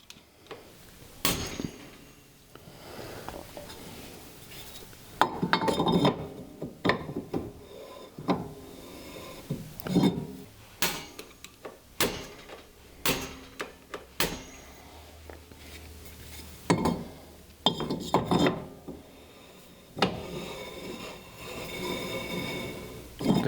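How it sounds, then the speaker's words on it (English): Flathead screwdriver turning the small adjuster wheel on a golf cart drum brake, giving a series of short metallic clicks and ticks at uneven intervals, close by and moderately loud, with faint rubbing and handling noises between the clicks. "there's a little wheel right there that we can move in order to spread this apart so that it puts more tension on these pads against the drum"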